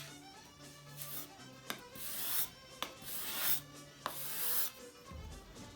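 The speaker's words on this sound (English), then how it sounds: "Keep sanding those down" Hand sanding of wood during a finishing restoration, heard as steady close rasping strokes in repeated passes with a few sharp knocks between them and no talk.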